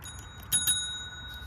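A small bell inside a cat's ball toy jingles in brief, bright tinkles, a few quick light rings close by against a quiet background.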